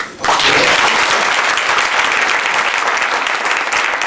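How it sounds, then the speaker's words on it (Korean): Sustained audience applause at a 2003 prayer meeting in a hotel hall, starting sharply after a brief pause and continuing steadily and loudly throughout, with no talk over it. "우리 좋은 박수의 격려를 드리도록"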